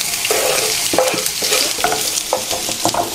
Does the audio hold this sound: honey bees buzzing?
no